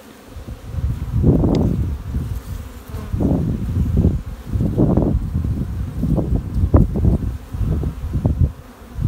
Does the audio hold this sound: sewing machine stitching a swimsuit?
no